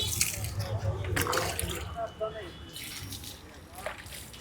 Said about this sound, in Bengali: কিন্তু পানিটা দেন মুখে